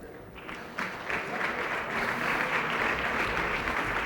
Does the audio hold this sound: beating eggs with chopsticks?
no